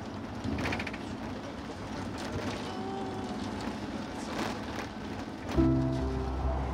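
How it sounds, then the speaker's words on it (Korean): Steady rain shower hissing on surfaces in Antalya, Türkiye, during a sudden storm with strong wind, with a low rumble swelling near the end. "그리고 이내 소나기까지 내린다"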